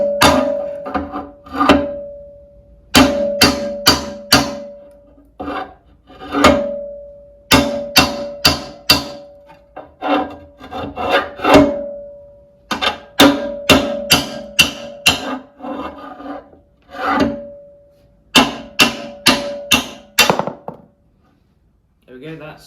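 Sharp metallic hammer blows drive a rear axle bushing out of a 1960 Bolens Ride-a-matic tractor with a rod, struck in rapid bursts of three to six hits separated by short pauses, close and loud.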